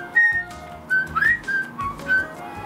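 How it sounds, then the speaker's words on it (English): A talking starling whistles in a series of clear, bright, sliding notes, several short rising and falling phrases at close range with quiet pauses between. "this clever little starling's big voice and expressive whistle has certainly managed to creep into our"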